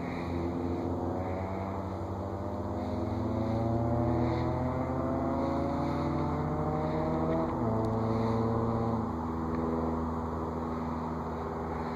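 A distant airplane taking off near BWI airport, a steady droning engine roar with shifting tones that swells and holds over several seconds, heard from an open aviation park with no talking.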